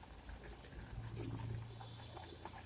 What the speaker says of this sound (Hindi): ये देखिए बबल्स जैसे आ गए हैं इनमें, इस तरह से होने लगे, अच्छे से पक जाए ये।